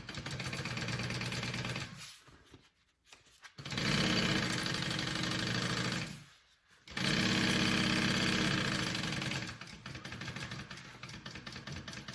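A sewing machine stitches across a bag piece in close, steady runs, stopping twice briefly before starting up again.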